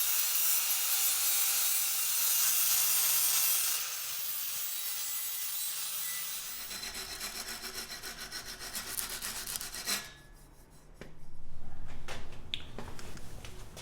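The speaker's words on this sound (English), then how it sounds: "I'm going to get this all finish welded and grinded and sanded and chop off some of the pieces" Grinding and sanding on a welded metal tool holder for a welding table, with a harsh hissing abrasive rasp, then uneven scraping and rubbing strokes and a renewed burst of grinding.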